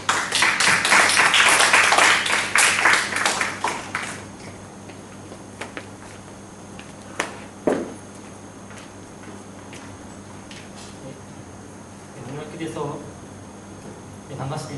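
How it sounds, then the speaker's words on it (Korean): A congregation at a Wednesday church service claps in welcome for two visiting missionaries: a dense, loud burst of applause over the first few seconds that thins out and fades, leaving a quiet room with a few faint sounds. "우리 환영의 박수로 맞이할까요?"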